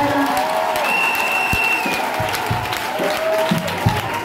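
A church congregation applauds steadily and evenly, with scattered cheers rising over the clapping, during an Easter prayer gathering in a village.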